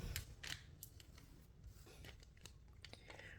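Quiet, close snips of scissors cutting open a thin Panini sticker packet, a few crisp clicks and crinkles spread across a few seconds.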